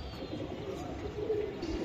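A blue Pakistani teddy pigeon coos softly at a pigeon market, low gentle coos close by amid faint ambient noise.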